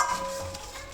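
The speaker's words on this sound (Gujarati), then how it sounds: "મિક્સ કર્યા બાદ બધાને ચમચી વડે મિક્સ કરી દઈશું" A spoon stirs a palak paneer paratha mixture in a bowl, producing a brief, steady scraping and squishing sound, fairly close and unaccompanied by talk.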